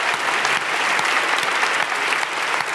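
A theatre audience at a staged literary debate breaks into sustained applause, a full, even roar of many hands clapping with no voices on top.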